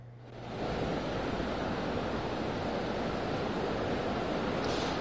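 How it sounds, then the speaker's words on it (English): Bridal Falls in the Sierra, swollen with California snowmelt, rushing loudly in a dense, steady roar that rises within the first second and then holds unbroken, with no voices. "you're looking at live pictures now of that rushing water, California snowmelt"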